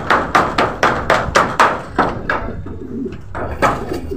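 Pigeons being trained to a stick, a rapid series of loud, close flapping wing beats in quick bursts, followed by softer low cooing and a few more flaps.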